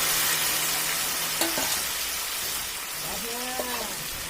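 Fish sizzling in hot oil in a pan with bay leaf and sugar, giving a steady loud crackling hiss throughout, with a few faint tonal squeaks over the frying.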